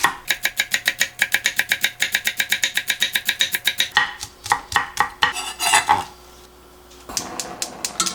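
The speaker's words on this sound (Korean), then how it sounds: "대파 약간 이 정도는요 조금 잘게 다지듯이 해놓으면 되고" Green onion being finely minced with a knife on a cutting board, a fast regular run of sharp chopping taps for several seconds, then scattered knocks and clatter from kitchen utensils and a brief quiet stretch.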